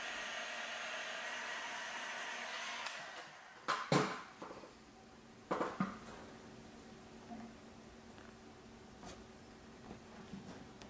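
A heat gun or hair dryer whirs steadily at moderate volume, heating parts for an outboard motor mount on an inflatable boat, then cuts off, followed by a few knocks and handling clatter in a quiet room.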